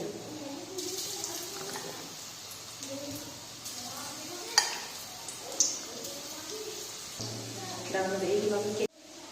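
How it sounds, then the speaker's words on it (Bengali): Soya chunks fry in hot oil in a kadai with a steady, hissing sizzle that runs throughout, with sharper crackles here and there and someone speaking over it. "এখানে কড়াইতে তেল গরম হয়ে গেছে, আমি একটা একটা করে দিয়ে এগুলোকে ভালো করে ভেজে নেব"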